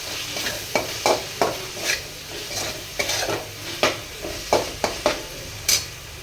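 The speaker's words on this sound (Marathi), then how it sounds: "विनेगर टाकलंय मी. मिक्स करून घ्यायचं." Noodles tossed with a splash of vinegar in a pan for hakka noodles, a spatula scraping and clattering against the metal in a dozen sharp, irregular strokes over a steady background sizzle.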